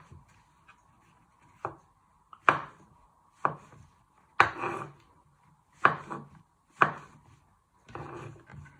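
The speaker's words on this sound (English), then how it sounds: "So I'm chopping my mushrooms just like that." Knife chopping mushrooms on a board: a series of sharp, distinct thuds spaced about a second apart, close by, with a faint steady hum underneath.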